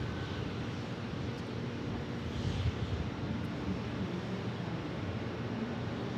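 A United airliner, likely an A321neo, approaches an airport on a live plane-spotting stream, heard as a steady low jet roar with wind noise. It stays even and moderately loud throughout, with no talk.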